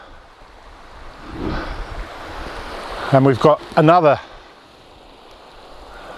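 Rushing white water of a river near a bridge at Three Shires Head, a steady broad wash with wind buffeting the mic while someone speaks briefly over it.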